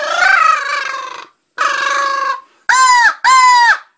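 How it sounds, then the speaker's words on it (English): A feeding-frenzy sequence is blown on a handheld crow call: two long, raspy, drawn-out caws and then two sharper, shorter caws in quick succession. The calls are loud and close, with no voices. "To do your feeding frenzy."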